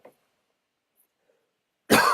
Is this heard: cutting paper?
no